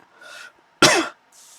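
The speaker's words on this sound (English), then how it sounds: "I got a cough" A man gives a single sharp, close cough after a short throat-clearing sound, in a quiet room.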